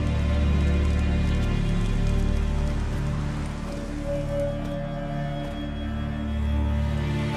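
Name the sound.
rain falling in video game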